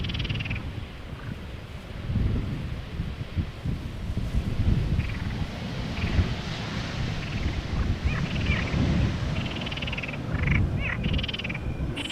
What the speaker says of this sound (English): Frogs are awake now. They're getting a bit louder.